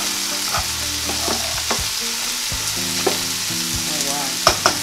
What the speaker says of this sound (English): I'm going to flip our chicken skewers over. Place our cast iron skillet back on top of them